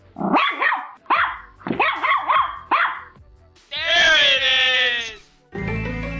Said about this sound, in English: Chihuahua dog barking.